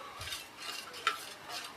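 A spoon stirs thick halwa batter in a pan, giving soft repeated scraping swishes with a light metallic tick, quiet and close.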